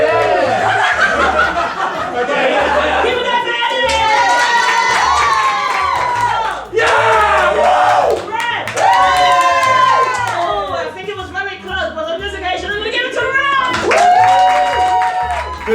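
An audience at a stand-up comedy show cheers, whoops and shouts during a cheer-off. Loud overlapping voices come in bursts, with laughter and some clapping mixed in.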